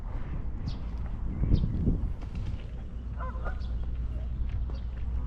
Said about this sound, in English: Typical trumping sound of Canadian geese